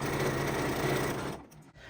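Sewing machine stitching a thread catcher in a steady, fast mechanical whir, close and continuous, then stopping abruptly near the end.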